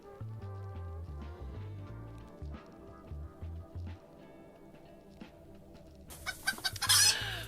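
A squeezed rubber chicken toy lets out a run of squawking, clucking honks, loud and close, breaking through softer background music in a quick burst near the end.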